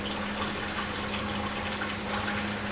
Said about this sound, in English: We'll switch the water over so it's coming down through the disposal.